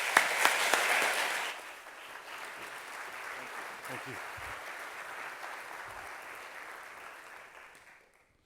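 Applause from a seated audience greets a speaker, loud at first and then thinning into scattered clapping that fades out, with someone briefly speaking near the end.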